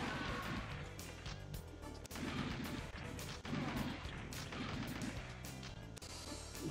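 Machine gun fire in the Sega Saturn shooter Virtua Cop, a fast stream of heavy, booming shots running without a break over loud, dense game music and effects.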